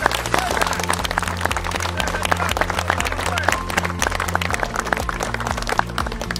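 A crowd applauds at a children's education event with a Major League Baseball player present, dense clapping mixed with loud crowd noise and voices throughout.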